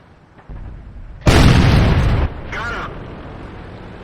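A tank cannon firing in the video game World of Tanks, a single loud close blast with a heavy roaring tail lasting about a second, followed by softer mechanical rumble and a brief whine.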